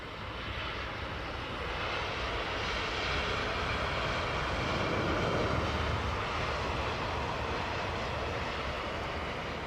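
A Eurowings Airbus A321neo jet roars steadily at Heathrow, a broad, continuous engine rumble at moderate distance that swells slightly and holds, with no voices.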